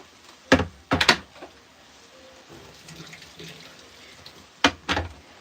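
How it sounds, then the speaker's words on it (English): Hot water is poured over a kitchen utensil to rinse it clean, giving short loud splashing bursts, two close together early and one more near the end, separated by quiet room tone. "I actually pour the hot water over this to clean it"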